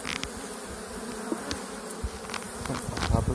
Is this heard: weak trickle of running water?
no